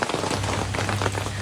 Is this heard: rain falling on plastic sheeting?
yes